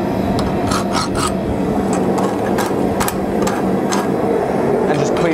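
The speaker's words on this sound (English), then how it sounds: "We can go ahead and hit that with a farrier's rasp." A farrier's rasp files a piece of hot forged steel on a blacksmith's workpiece, a rapid series of harsh scraping strokes with rhythmic rasping, close and loud throughout.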